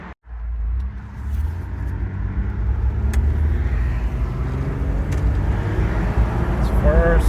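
A car with a failing Aisin AW30-40LE/AW4 automatic transmission pulls onto a main road, its engine rumbling steadily and rising in pitch as it accelerates, with faint shift changes under the road noise.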